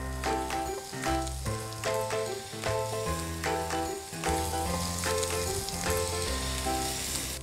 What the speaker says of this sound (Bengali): অল্প আঁচে চিকেন ব্রেস্টের দুপিট ভেজে নিন।